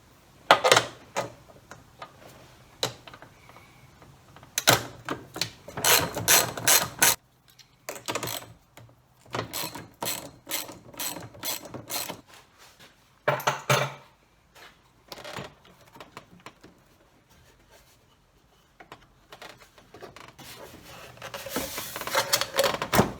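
A ratchet loosens the hose clamp bands on the rubber tube between resonator and airbox of a 1986 Nissan 300ZX Turbo, with rapid clicking bursts separated by pauses, close and crisp.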